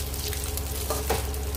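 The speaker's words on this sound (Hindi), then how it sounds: "हमारा ऑयल गर्म हो चुका है, चाप को हमें गोल्डन होने तक तलना है" Soya chaap deep frying in a kadai of hot oil, a steady dense crackling sizzle with scattered pops, close and alone without talk.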